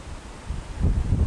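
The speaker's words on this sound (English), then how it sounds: "It's windy, windy, windy." Wind gusts buffet the microphone outdoors in autumn, a low rumbling roar that swells louder in the second half, with faint rustling and no voices.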